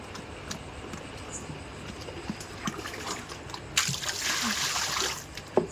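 Water splashes into sticky cattle feed in a trough, a short burst of pouring and sloshing over a background of shuffling and faint trickles.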